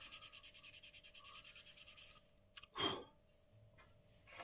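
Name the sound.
hand sanding primer on a Fiat 500 body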